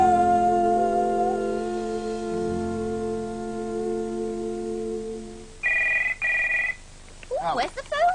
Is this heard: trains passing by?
no